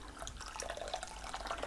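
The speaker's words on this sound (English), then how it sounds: "I'm going to add a little bit of hot water" Hot water poured into a bowl while preparing to tie-dye silk, a close, steady splashing and trickling with bright droplet sounds and no speech.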